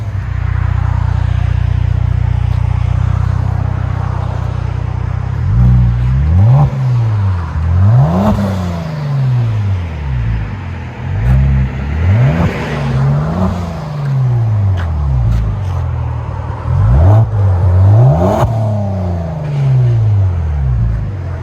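A 2018 Kia Stinger GT with a 3.3L twin-turbo V6 and dual exhaust with resonators revs repeatedly, loud and close, each blip rising and falling over a steady idle rumble, with no talk.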